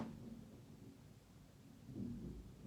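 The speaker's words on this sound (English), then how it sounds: "Ooh, thunder." Low thunder rumbles through a storm, a faint, continuous rolling that swells louder near the end, heard alone with no talking.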